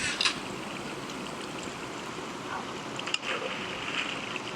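Water in the Minecraft video game, a continuous soft rushing and sloshing wash like waves or a stream, moderately faint and steady, with a few small splashy bursts.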